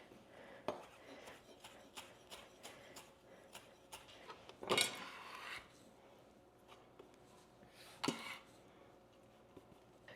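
Herbs are stirred into yellow rice in a bowl with a spoon, giving soft, quiet scraping and ticking taps and a couple of sharper knocks against the bowl.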